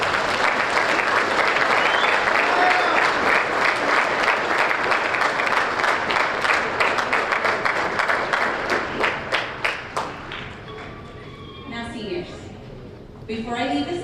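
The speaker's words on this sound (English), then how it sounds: "please welcome and join me in a grand applause for Mr." A graduation ceremony audience applauds at length with dense, loud clapping that gradually thins into scattered claps toward the end.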